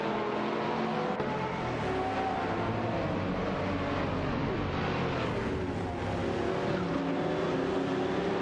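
Race cars in a simulated race, an Aston Martin DBS9 and a Lamborghini Gallardo GT3 among the pack, engines droning and whining continuously at steady volume with shifting tones as cars pass, no talking over them.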